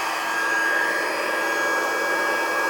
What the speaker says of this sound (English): We're going to take our handy dandy heat emboss tool,